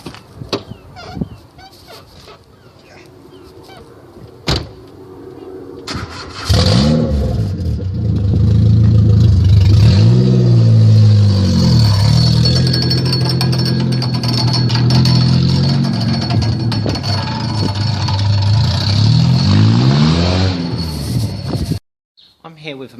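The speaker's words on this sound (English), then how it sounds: "start this car up and drive away" A 2006 Mercedes Sprinter van starts up and revs, then drives away with its engine note rising and falling. It is loud and close, and a brief click is heard before the start.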